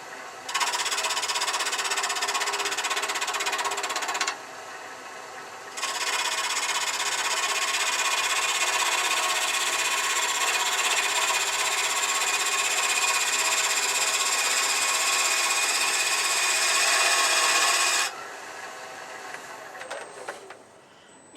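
A roughing gouge truing up the outside of a wooden spinner on a wood lathe makes a loud, steady scraping hiss. It breaks off briefly around the fifth second, runs on unbroken, then stops, leaving quieter shop sounds.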